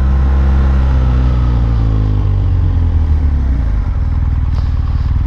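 A 2015 BMW R1200R motorcycle with an Akrapovic exhaust runs with a deep, steady engine rumble, loud and close throughout, with no talk over it.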